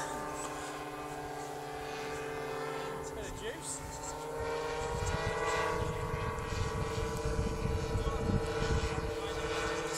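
Twin-engine RC camera plane with two 26cc CRRC petrol engines making a low pass, a buzzing drone that swells louder in the second half as it comes closer.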